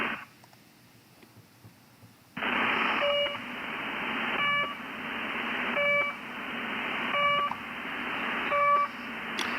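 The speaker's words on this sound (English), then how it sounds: "the Russians are very creative with their channel markers. You know, you've got the buzzer, you've got the pip, the goose" A Russian radio channel marker comes through as a noisy, buzzing radio signal that switches on after a quiet stretch, with short tonal pips repeating at regular intervals over the continuous hiss.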